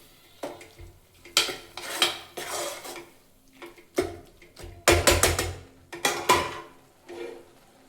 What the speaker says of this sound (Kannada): ಇದನ್ನ 1 ಮಿನಿಟ್ ಫ್ರೈ ಮಾಡ್ಕೊಳ್ಳಿ